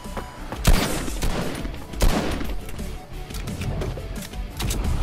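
Gunfire in the video game Fortnite, with a steady run of rapid shots and a few louder sharp bursts standing out, close and loud throughout.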